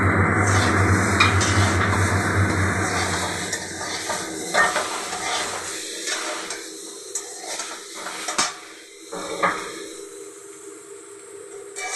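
Ginger paste and chili paste fry in a hot pan for a paneer and potato curry. A loud, dense sizzle fades over several seconds into quieter spattering, with a utensil clinking and scraping against the pan.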